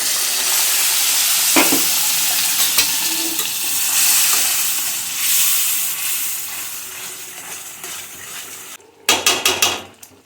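Onion, tomato and garlic masala sizzles in oil in a frying pan while a spoon stirs and scrapes. A splash of water follows, then sharp clinks of metal near the end, with no talking.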